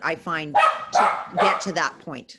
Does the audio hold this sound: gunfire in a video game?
no